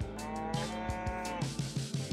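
Cows mooing in a Scottish pasture near Melvich on the north coast, several low drawn-out moos repeating in a steady run, fairly close and clear, with no talk over them.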